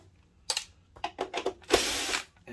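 Short bursts of a powered screwdriver backing out the bottom screws of a BenQ HT3050 DLP projector, several brief whirs close up and separated by pauses, the longest burst near the end.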